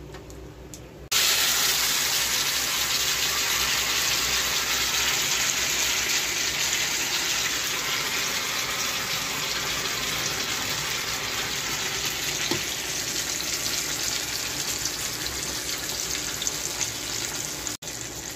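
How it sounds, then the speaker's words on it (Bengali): Boiled taro leaves tipped into a hot cooking pan: a sudden loud, steady sizzle and hiss starts after about a second and continues evenly to the end, with no voices. "এবার আমি দিয়ে দেবো কচুর শাকটা ওর মধ্যে।"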